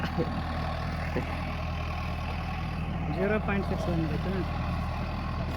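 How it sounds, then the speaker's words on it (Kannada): Several tractors hauling harvested sugarcane hum steadily with a low, continuous engine drone nearby. A person speaks over the engine noise. "4 ಟ್ರ್ಯಾಕ್ಟರ್ ಹೊಡ್ಯಾಕತ್ತಾರ"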